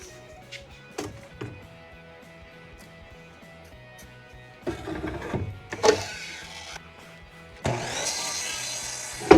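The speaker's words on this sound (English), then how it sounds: "Let's go ahead and get one of these moved over to the miter saw and get it cut." Miter saw cutting a wooden 2x4 in a workshop, two loud bursts of blade whine through the wood separated by quieter handling knocks and clatter.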